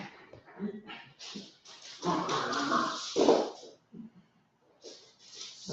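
A dog playing with a man growls, whimpers and yips in short bursts, with a person talking intermittently over the sounds.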